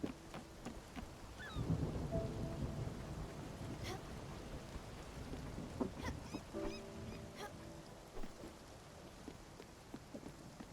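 Steady rain pattering on a roof in the video game Spiritfarer, with soft low rumbles of thunder rolling underneath and a few brief game chimes, moderately quiet throughout.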